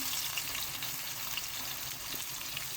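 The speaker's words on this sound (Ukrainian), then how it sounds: "Тут вже засмажка робиться на шкварочках домашніх, цибулька для вареників з картоплею." Chopped onions fry in fat rendered from homemade pork cracklings, a close, steady, dense sizzle with crackling pops and occasional stirring, and no voices.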